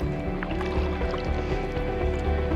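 A paddleboard rocks on small waves in a bay, giving soft, steady water sloshing and lapping close by, with irregular drips and splashes over a low rumble.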